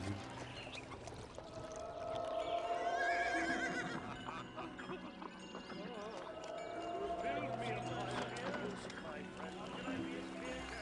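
Horses in the Zeus: Master of Olympus video game neigh and clip-clop amid busy city-building game sounds, with whinnies rising and falling over several seconds while a person talks over them.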